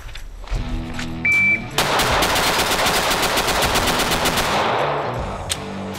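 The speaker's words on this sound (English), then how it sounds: "I want to find out which one Jason shoots the fastest" Rapid pistol fire from a Sig Sauer or Canik on a timed shooting drill: a start beep, then a dense, loud string of sharp evenly spaced shots lasting about three seconds before ringing off.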